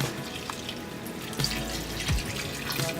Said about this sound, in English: So here's 1 cup of water that we are going to now dump in for the stew.